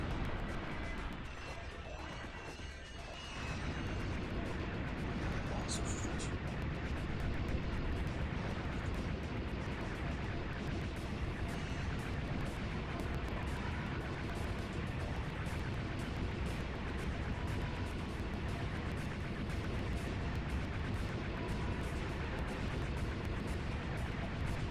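Dense, continuous gunfire and explosions from the video game Ratchet: Deadlocked, with mines and rockets in play, a loud steady barrage of blasts and shots lasting the whole stretch without a pause.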